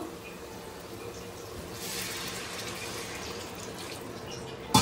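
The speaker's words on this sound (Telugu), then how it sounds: "అయితే ఇందులో కొంచెం వాటర్ పోసుకుందాము." Steady rush of water pouring into a cooking pot, moderately close, with no talking, ending in a brief clatter.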